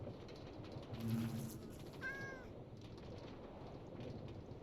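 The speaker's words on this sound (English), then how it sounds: "And I hear another damn cat." A single faint cat meow from Minecraft rises briefly out of a steady hiss of game ambience.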